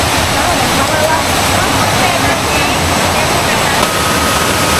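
The Poço do Índio waterfall in Pernambuco roars in a steady, dense rush of falling water, loud and close, with no pauses.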